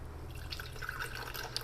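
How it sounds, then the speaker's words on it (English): Warm water from an electric kettle trickling onto tea powder in a cup, a faint, steady pour with small bubbling drips, quiet and close with no talking. "Now we're going to add just a little bit of warmish water,"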